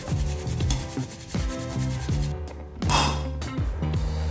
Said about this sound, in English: First of all, grate the ginger